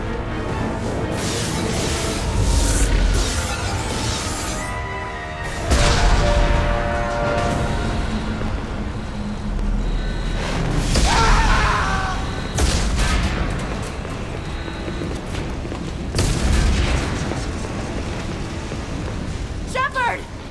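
Ship explosions and hull breaches aboard a vessel in Mass Effect 2: repeated heavy booms and crashing blasts at intervals, with alarms, debris and voices talking over the chaos.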